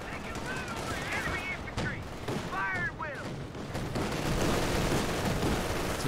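Sniper and machine-gun fire from the Company of Heroes 2 battle game: a dense, steady barrage of shots and explosions runs through the whole stretch, with brief whistling, chirping tones rising above it now and then.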